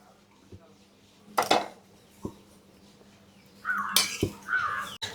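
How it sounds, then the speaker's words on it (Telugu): Metal kadai pan set down on a stove with ghee spooned in, a few sharp clanks and scrapes of metal against metal at close range, separated by quiet gaps, with a bird calling faintly outside. "బాండీ పెట్టుకొని కొంచెం నెయ్యి వేసుకుంటున్నా ఒక స్పూను"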